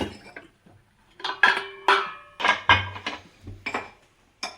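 A kadai pan set on a home kitchen stove while cooking idli and vegetable kurma, heard as a few close metallic clanks and scrapes of cookware, irregular and separated by short pauses.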